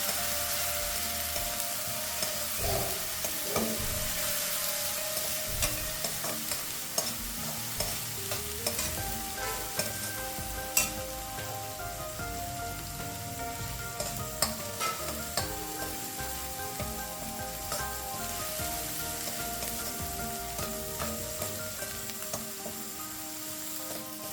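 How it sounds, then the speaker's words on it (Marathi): Rajma masala ingredients are sautéed in a pan with a continuous sizzle and repeated spatula scrapes and taps, fairly quiet and steady throughout with no talking. "आता ही आपण एखाद्या मिनिटात परतून घेणार आहे"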